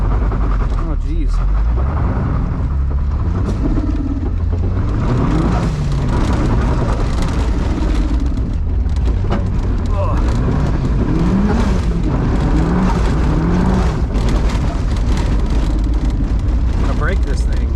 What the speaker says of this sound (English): Might as well go for a little rip on the dirt road in the Miata.